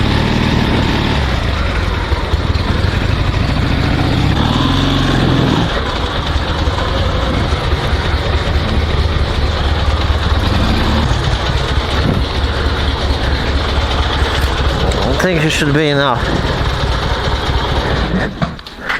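A survival sidecar motorcycle engine runs steadily with a loud, low rumbling drone throughout, and a brief spoken remark near the end.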